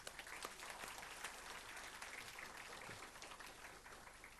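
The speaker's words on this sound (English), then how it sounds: "please join me in giving them a big round of applause" Steady applause fills the room at a university convocation graduation ceremony, a dense, even wash of many hands clapping at moderate distance, sustained throughout with no talk over it.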